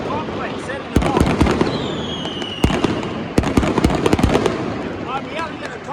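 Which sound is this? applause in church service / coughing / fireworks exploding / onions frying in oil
fireworks exploding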